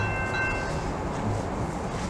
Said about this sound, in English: Here comes our first train.